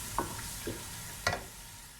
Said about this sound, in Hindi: इसमें मैं चिकन शामिल करूँगी।